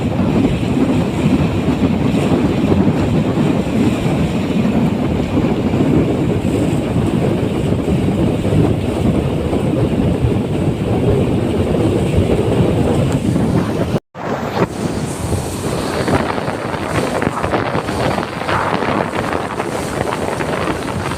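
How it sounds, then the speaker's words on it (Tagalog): Strong wind roaring past the microphone in a town in Mariveles, Bataan, a loud, constant buffeting rush that drops out briefly before surging back, with no talking. "lakas ng hangin"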